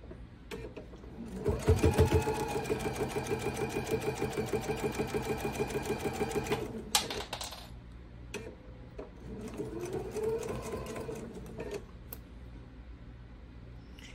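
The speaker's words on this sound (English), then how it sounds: "All right, so I'm just going to finish sewing the rest of the seam." A sewing machine stitches a quilt seam in a fast, even run of close needle clicks for several seconds, then stops, followed by a shorter, quieter burst of stitching.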